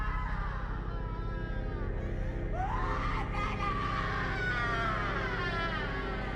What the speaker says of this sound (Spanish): El grito de la madre al encontrarla es uno de los más desgarradores del cine.